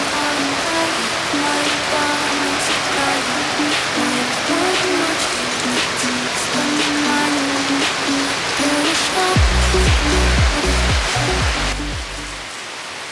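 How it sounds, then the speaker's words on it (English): Heavy rain pours down in a steady, loud wash of noise that fills the whole stretch, with some low rumbling toward the end. "As you can see, it's pouring rain right now."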